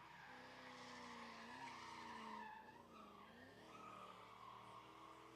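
A Mustang race car revs and shifts through gears on a track while its tires squeal and skid, a faint, distant sustained engine whine whose pitch dips and rises with each shift under a steady screech.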